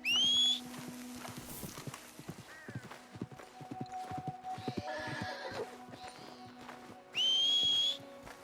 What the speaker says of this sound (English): So I don't know how full my horse's cargo is right now